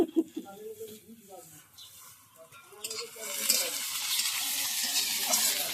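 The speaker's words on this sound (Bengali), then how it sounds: "পেঁয়াজটা ভাজা ভাজা হয়ে গেছে" Onions fry in a pan in a Bengali village kitchen, with a person talking over a faint sizzle at first before a louder, steady frying hiss builds up near the end.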